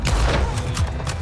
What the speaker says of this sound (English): this gun is being so slow to fire